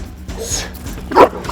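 A 200 lb Tibetan Mastiff held on a leash barks and whimpers up close: a short whiny yelp, then a louder gruff bark-whine, over background rustling.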